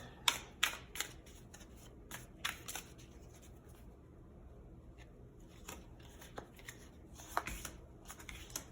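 Tarot cards being shuffled by hand in quiet surroundings. Soft, close riffling comes in two bursts of crisp flicks, with a calmer stretch between them.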